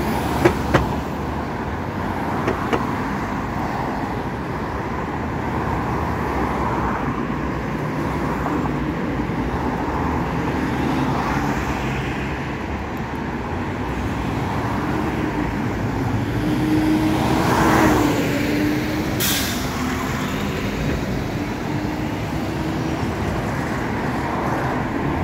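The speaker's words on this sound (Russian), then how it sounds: "вот последний автобус" Traffic rolls along a street in Khimki near Moscow, with buses and trolleybuses passing, a continuous mid-distance roadway hum that swells around the middle as a heavy vehicle goes by, no talk.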